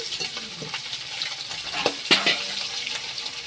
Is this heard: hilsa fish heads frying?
yes